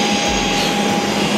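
An airliner's jet engine at Yakutsk airport roars as a loud, steady whine with a broad rushing drone, close and continuous throughout.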